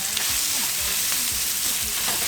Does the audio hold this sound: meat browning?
yes